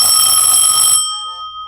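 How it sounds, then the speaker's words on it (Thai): A cockfight stopwatch timer program sounds a loud, steady electronic bell for about one second, then it cuts off, leaving a faint fading ring. "เมื่อเรากด start ก็จะมีเสียงกระดิ่งดัง1วิแล้วก็ เวลาก็จะเดินไปนะครับ"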